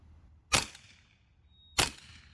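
Two sharp, crisp shots from a Karma Airguns SLS .22 PCP air rifle firing semi-auto, spaced about a second apart, each a loud snap with a short metallic ring and decay in an otherwise quiet space.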